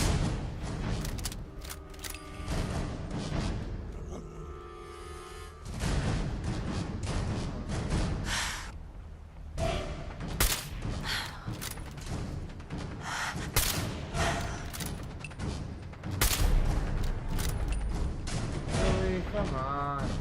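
Gunfire in the video game Fallout 4, bursts of loud shots and booming impacts packed densely across the stretch, with dense game effects throughout.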